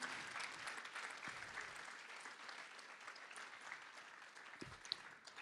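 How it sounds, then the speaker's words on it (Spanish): Church congregation clapping during a Sunday morning sermon, a faint, distant wash of many hands applauding steadily throughout, with a few sharper claps standing out near the end. "¿Alguien le puede dar un aplauso al Señor en esta mañana?"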